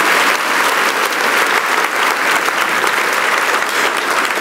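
A church congregation claps together in a loud, continuous burst of applause filling the sanctuary, dense and even throughout.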